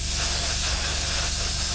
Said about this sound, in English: Just remember when you're spraying your metallizers not to flood.